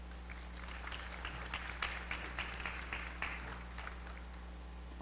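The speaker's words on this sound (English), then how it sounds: "Let's give a round of applause." Scattered, fairly faint clapping from a modest audience at an anniversary ceremony for Operation Border Health Preparedness, individual claps audible over a steady low hum.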